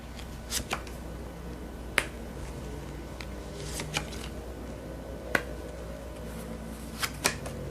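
Tarot cards are shuffled and drawn, making sharp, sparse snaps and flicks spaced a second or so apart over a quiet room background.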